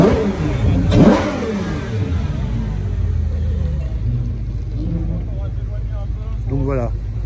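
A Ferrari 812 GTS engine revs hard at a French cars-and-coffee meet, surging to a loud peak around the first second, then settling into a steady rumbling idle with a brief blip near the end, while people talk nearby.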